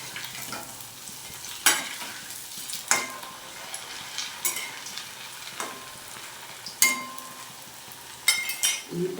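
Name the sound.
frying food in a pan until reddish-brown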